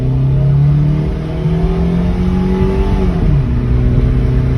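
A 1994 Toyota Starlet accelerating at full throttle from a stop, its engine note climbing steadily in pitch, dipping briefly at a gear change, then rising again, loud and close with no talking.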